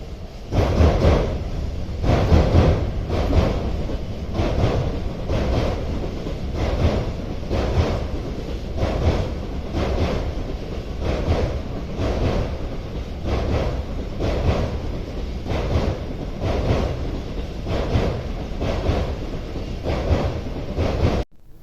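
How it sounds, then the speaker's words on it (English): A steady, dense rumble with a regular rhythmic clatter throughout, a train rolling past at close range near Torksey Lock on the River Trent, with no voices. "You hear this train line in a minute."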